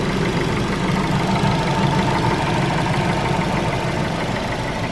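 A Ford Fusion engine idles after a radiator replacement, with a steady, close, mid-pitched running drone that holds even throughout and has no talk over it.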